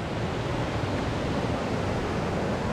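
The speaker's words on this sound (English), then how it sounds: "So we arrived at the first waterfall." Steady broadband rush of a waterfall on the hiking trail to Kheer Ganga in the Himalayas, loud and continuous with no breaks, like close falling water.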